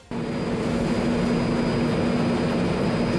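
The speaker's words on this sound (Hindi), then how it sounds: "वायुसेना के विमानों ने एडिनबर्ग के ऊपर से फ्लाई पास्ट निकाला" British air force aircraft on a flypast over Edinburgh, a steady loud engine roar that starts abruptly and holds a sustained drone with a constant tone throughout.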